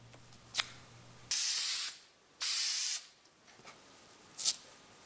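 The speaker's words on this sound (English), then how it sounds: "then they're given some spray glue." Two sustained bursts of aerosol spray glue, each about half a second long with a short gap between them, with faint clicks and small handling noises around them.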